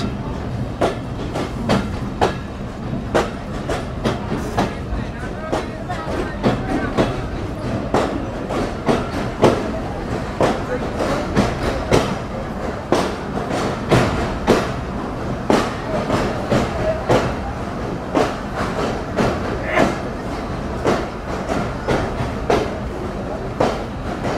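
The Betna Express passenger train rolls near Jessore Junction with steady, rhythmic wheel clicks over rail joints and a continuous low rumble throughout, heard from on board.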